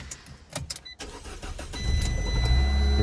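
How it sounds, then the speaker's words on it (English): A tiny car's small engine cranks and catches after a few clicks and taps inside the cabin, settling into a steady, close idle rumble. "Let's fire up the engine first."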